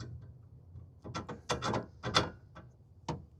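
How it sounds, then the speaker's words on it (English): A metal carrier bolt drops into the bed rail slot of a Chevy Colorado ZR2 truck, making a few light, close clinks and scrapes against a quiet background. "you're just gonna drop your carrier bolt"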